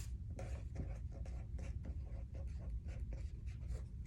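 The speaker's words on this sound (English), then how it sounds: "I'm gonna write table of contents on this page." A pen writes a table of contents in an interactive science notebook, making close, scratchy strokes in a quick, uneven rhythm.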